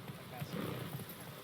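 The horse Roach trots along in The Witcher 3, its hooves giving a soft, continuous clip-clop rhythm that stays faint and low beneath a quiet ambient game backdrop.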